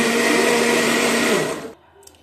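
A kitchen blender whirs steadily at close range in a home kitchen, a loud continuous motor drone that winds down and cuts off after under two seconds, leaving faint background noise.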